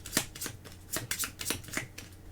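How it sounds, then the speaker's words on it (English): Game cards from the card game Stellarion being shuffled up close, a quick series of crisp riffling bursts repeating several times, with no voices. "So we will shuffle these 2 back in because we need these 2."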